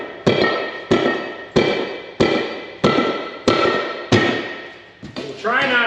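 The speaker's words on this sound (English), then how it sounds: "Go ahead and whack this with a hammer." Hammer blows strike a tire's steel rim to break the bead loose, six loud, heavy metallic thuds spaced about every 0.6 seconds, each ringing briefly before the next, with a voice starting at the end.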